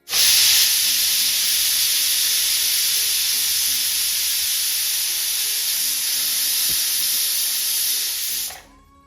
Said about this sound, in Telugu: కుక్కర్కి మూత పెట్టేసి విజిల్ పెట్టేసుకొని ఫ్లేమ్ని మీడియం ఫ్లేమ్లోకి అడ్జస్ట్ చేసి ఒక ఐదు విజిల్స్ వచ్చేంత వరకు ఉడికించండి